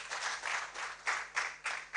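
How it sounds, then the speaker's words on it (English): Sparse applause at an academic conference, faint and uneven, with a few distinct bursts of clapping rising and falling. "Please, a round of applause for him."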